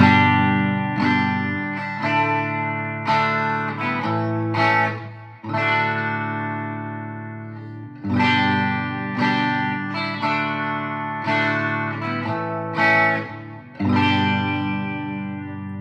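A guitar played through a Quilter SuperBlock UK amp in its AC normal voice with modest gain, ringing out in sustained, strummed chords with steady attacks and long decay, with no voices over it.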